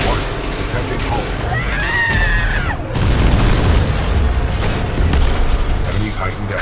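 An enemy Titan explodes in Titanfall 2, a heavy booming blast with rumbling debris that swells and rolls on, mixed with game effects and a brief rising electronic tone.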